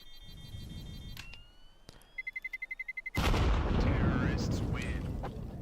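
Pistol gunfire in a Counter-Strike 2 esports match, a quick rhythmic run of sharp shots followed by a loud burst and noisy game sound under a commentator's voice.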